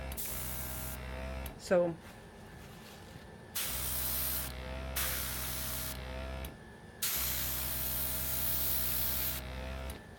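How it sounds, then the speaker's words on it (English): Liberty airbrush releasing bursts of compressed air and ink in a steady hiss, three separate sprays of a few seconds each with short pauses, close and loud, with a brief spoken word between them. "when you press this button here, it allows the air to travel through, collect ink, and go out."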